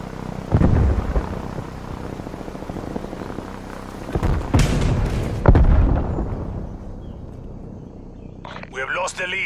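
Several booming grenade-type explosions go off in a Call of Duty: Black Ops match, each a sharp burst with a rumbling tail, over steady game background noise.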